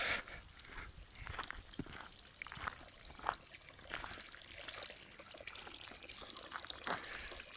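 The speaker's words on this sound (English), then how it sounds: "another spring with drinking water, fresh drinking water. You can fill up your bottles." Fresh drinking water trickles and splashes steadily from a spring in a Swiss forest, a soft continuous pouring close by with small bright drips.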